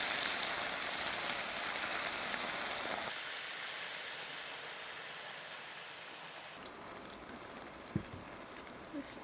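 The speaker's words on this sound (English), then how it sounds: "Let's add the water" Water pours into a pot for pork kimchi stew, a continuous close splashing hiss that softens partway through and fades, ending with a few small knocks.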